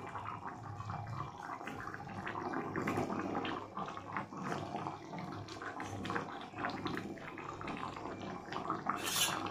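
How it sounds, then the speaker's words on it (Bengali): Curry broth with small potatoes and eggs bubbling at a steady boil in a pot, a continuous soft burble and watery churning at moderate volume, with no voices. "প্রথমে ঝোলটা ফুটে উঠেছে, এবার ডিমগুলো দিয়ে দেবো।"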